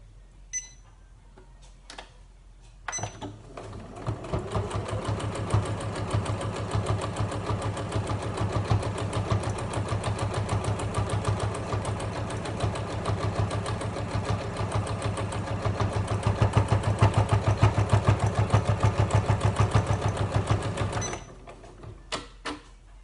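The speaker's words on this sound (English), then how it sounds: "now we're sewing with 1/8, so we should still be able to avoid sewing through that wadding" A sewing machine stitches through a padded fabric notebook cover with wadding inside, running in a steady rapid rhythm for nearly twenty seconds, gaining speed toward the end before stopping, with a few quiet clicks before and after.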